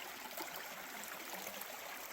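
A river flows along a humid canyon trail, a faint, steady wash of rushing water with no voices.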